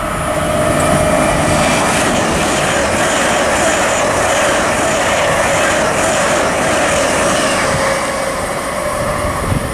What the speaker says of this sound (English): also passing through, we've got the LNER Class 800